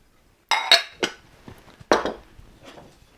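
Utensil clinking against a big bowl while okonomiyaki dry and wet ingredients are mixed together: a few sharp, close knocks and scrapes, spaced irregularly in an otherwise quiet kitchen.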